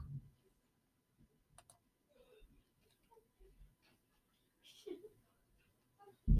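A few scattered computer mouse clicks, soft and close, separated by pauses in an otherwise quiet room, with a brief bit of speech or movement near the end.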